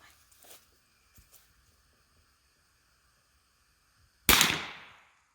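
A single sharp crack from a .22 bolt action rifle fired at a target, loud and close, decaying quickly after a quiet lead-in.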